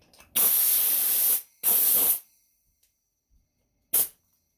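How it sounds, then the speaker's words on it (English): Compressed air bursts from a powder coating gun during a test fire while coating parts for a Yamaha YZ490 rebuild: two loud close hissing blasts of about a second each, then a short final puff. "we are ready to powder coat this. Hook up our air."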